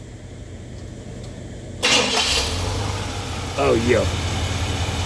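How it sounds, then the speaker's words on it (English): Car engine cranking over, catching and settling into a steady idle up close, with a brief rev partway through and someone speaking briefly over it. "motor ain't missing a beat. See how he crank up one more time."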